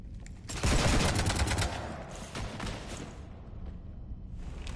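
A rapid burst of automatic gunfire shoots up a ship in Mass Effect 3, loud and close at first, then easing into scattered shots and a sci-fi rumble.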